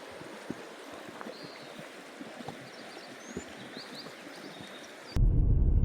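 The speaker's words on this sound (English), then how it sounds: "Early morning on the Metolius River." The Metolius River in Central Oregon flows at 6 a.m. as a steady, soft rush of water. Faint birdsong floats above it, and a loud thump of wind or handling noise cuts in near the end.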